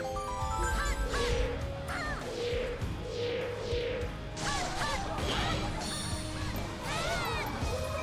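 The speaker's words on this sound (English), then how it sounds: "Is there a bird right behind me?" A bird in The Legend of Zelda: The Wind Waker gives a series of harsh, repeated caws close by, mixed with smashing hits and whooshes from the game.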